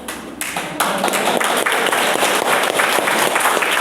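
A church congregation at a Christian gathering in Arunachal Pradesh claps together, a dense, loud burst of applause that starts abruptly and keeps going for several seconds, with no talking.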